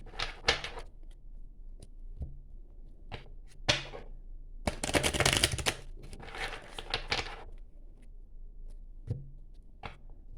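Tarot cards being shuffled and handled by hand, giving irregular bursts of crisp papery riffling and tapping with a longer flurry in the middle, fairly close and moderately loud, with no talking.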